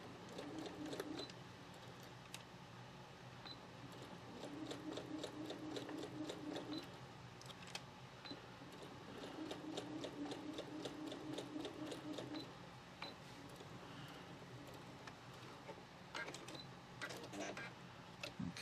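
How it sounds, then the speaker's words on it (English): A sewing machine stitches a seam on a four-patch quilt block, its motor humming in long runs broken by short pauses and quick back-tacks. It sounds close and steady, with no talking over it. "now we're going to sew on this side"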